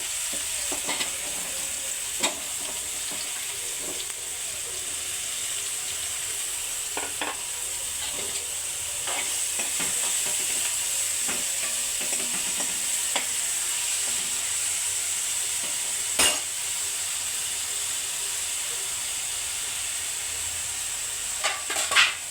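Grated onions fry in hot oil with a continuous sizzling hiss, broken by frequent scraping and clicking stirring strokes throughout.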